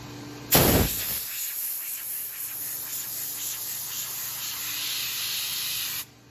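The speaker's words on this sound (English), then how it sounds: "I'm going to hit that with some Windex" Windex glass cleaner sprayed onto scratched glass being repaired and polished makes a sharp burst followed by a long, even hiss that runs for several seconds before stopping abruptly.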